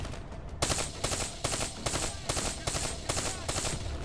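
An automatic weapon in Call of Duty: Black Ops III fires rapid, evenly spaced bursts of about eight sharp cracks, loud and close, with no talking.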